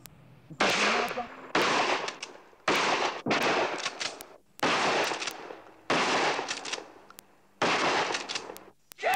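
Rifle gunfire at a training session. About eight loud volleys of shots come in a steady rhythm, each sharp crack trailing into a brief echoing tail, with faint voices in the background.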